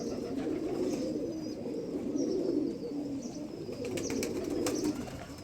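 Soft, repeated cooing from a lightweight Indian pigeon close by, low throaty murmurs rolling on continuously, with a few faint higher chirps in the background.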